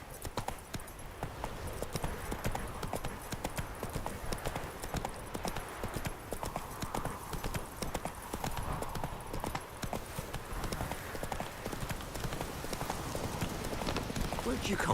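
Horse hooves clip-clop in a steady galloping rhythm throughout in The Witcher 3: Wild Hunt, with game sounds and a voice over the hoofbeats.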